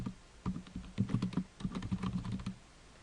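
Computer keyboard typing in short irregular bursts of close, fairly quiet key clicks with brief pauses between words, no voices.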